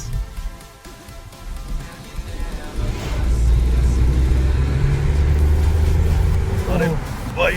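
A remapped Tata Nexon 1.2 Turbo Revotron BS6 in sports mode is pushed to full throttle in third gear, its engine roar swelling loud and rising in pitch while someone talks over it.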